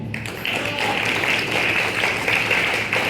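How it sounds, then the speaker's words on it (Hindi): Steady applause from an audience, a dense wash of clapping that holds throughout at an even level. "आपकी ताली भी आ रही है।"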